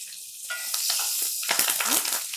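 Dried red chillies, curry leaves and green chillies hitting hot oil, bursting into a loud crackling sizzle with sharp pops and spatters that intensifies over a couple of seconds, close by and with no talking.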